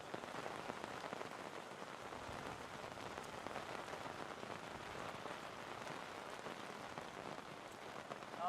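Steady rain falls during a second-grade rugby league match between Coffs Harbour and Armidale, a dense, even hiss of drops on surfaces that continues unbroken.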